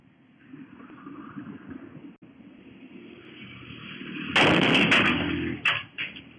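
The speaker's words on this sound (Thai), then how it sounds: "ปาระเบิดตุ้มดังสนั่นเลยนะคะ" A thrown bomb goes off inside a barber shop in CCTV footage, a sudden loud blast cutting through quiet room noise, followed by a few sharp crackling bursts as it fades.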